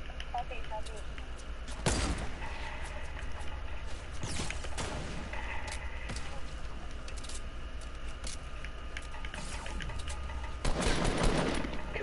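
Sniper fire in a PS4 video game: a few sharp, widely spaced cracks ring out over a steady background rumble, with a louder burst near the end.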